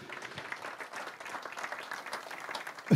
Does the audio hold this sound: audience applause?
yes